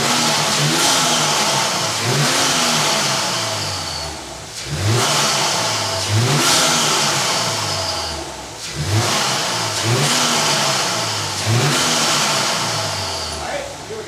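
A 2022-2024 Subaru WRX fitted with a Process West intake revs repeatedly in loud, rising and falling surges with short dips between pulls, close by. Voices are faintly present under the engine.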